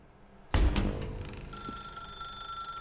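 A telephone in The Stanley Parable video game rings after a sudden loud clang, settling into a steady electronic ringing tone that sustains to the end without any talk.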